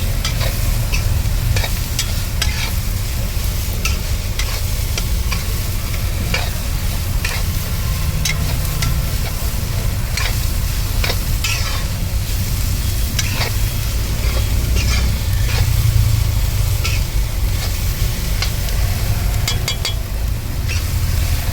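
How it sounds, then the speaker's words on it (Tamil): Beetroot sautéing for beetroot poriyal in a pan, a continuous close sizzle with frequent scraping and clinking of a spoon stirring the pieces, steady and loud throughout with no voices. "ஒரு 5 நிமிஷம் அப்படியே வதங்கட்டும்."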